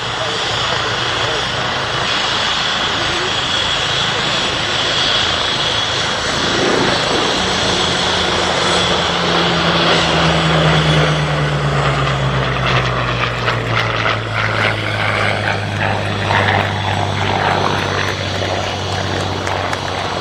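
A Westland Wasp helicopter's rotor and engine swell as it makes a final display pass at the Cosford Air Show, growing louder then sweeping away, with a commentator talking over the noise.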